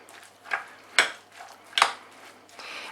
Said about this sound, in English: I'm gonna just mix it through.